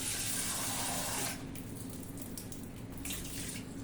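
Water is poured over leaves in a bowl at home: a strong, close splashing stream for about a second and a half, then a quieter trickle with light drips.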